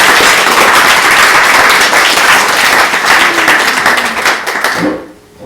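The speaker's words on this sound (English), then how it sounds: "Big round of applause for all three of our speakers." Audience at an evening speaker event in Antigonish gives a big round of applause to three speakers: dense, loud, continuous clapping that fills several seconds before cutting off abruptly near the end.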